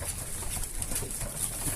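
Young Blankopy racing pigeons coo in a loft, soft rolling coos close by over a steady background hum, with brief higher chirps overhead.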